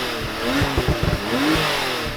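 An older 991-generation Porsche 911 Turbo S, sitting in neutral, gives a few short, sharp blips of the throttle close by. Brief pulses rise and fall over a steady idle.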